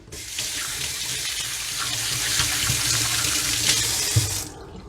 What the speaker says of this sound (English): after I clean off my hands a bit, we can go on.